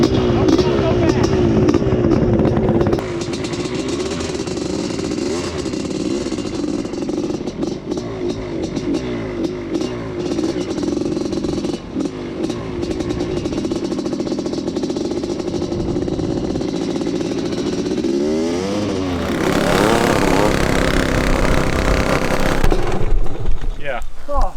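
A clapped-out Honda CR500 two-stroke motorcycle engine runs loudly and nearby at a sand drag track, holding a rough steady drone, then swelling louder toward the end, while people talk over it.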